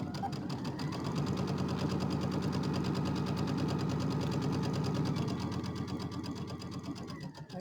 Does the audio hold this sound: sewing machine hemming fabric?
yes